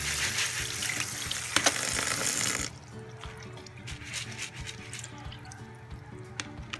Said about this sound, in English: I'll rinse this out.